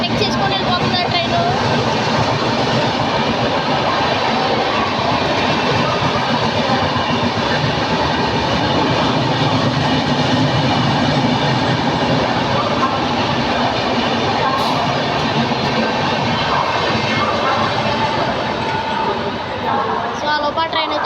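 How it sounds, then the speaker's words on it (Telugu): An Indian Railways superfast train thunders close by while overtaking on the Narasapur–Nagarsol route, a loud continuous roar with rhythmic wheel clatter throughout, voices faintly underneath. "మన ట్రైన్ ఓవర్టేక్ చేసుకొని వెళ్ళిపోతుందా ట్రైన్?"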